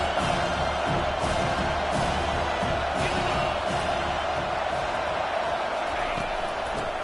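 Stadium crowd at a football game roars steadily throughout, loud and sustained, with a commentator talking over it.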